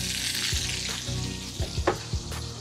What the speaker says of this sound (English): Sizzling. Charred,